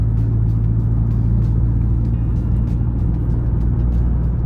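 Honda Jazz GK5 with a manual gearbox driving at night, a steady loud low engine and road rumble filling the cabin throughout, with no talk.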